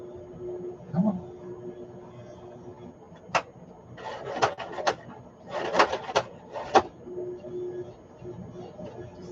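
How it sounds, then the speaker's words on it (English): A sewing machine strains to stitch through thick junk journal pages, making short, halting bursts of mechanical chatter with pauses between them, close by in a quiet room. "don't even sound like it wants to sew, does it?"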